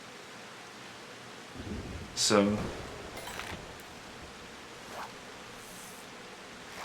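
Rain and a rumble of thunder from stormy weather in Final Fantasy XIV, a steady hiss with one sharp crack and rolling boom near the start, while a voice briefly speaks.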